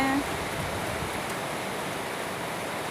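Calm windless morning rain in Khemarat, Ubon Ratchathani, pours as a continuous broadband wash, with a brief tonal sound at the very start, then an unbroken steady patter.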